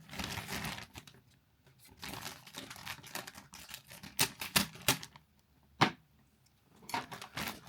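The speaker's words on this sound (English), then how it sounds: "Let me just get a knife and cut it open for you." A knife slices into a model kit box of WWII infantry figures, giving bursts of scratchy cutting, crinkling and sharp tapping clicks, close and irregular, with no voice.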